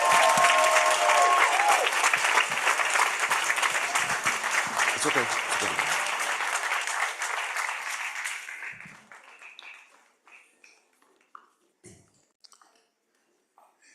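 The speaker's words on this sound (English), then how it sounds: "Let's give a round of applause to" An audience claps loudly at a school design presentation event, the applause fading out over several seconds into scattered claps, with a brief spoken voice near the start.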